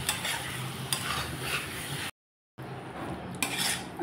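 A spatula stirs flat bean curry in a pan, giving close metallic scrapes and clinks over a soft sizzle, broken by a short silent gap before the stirring resumes.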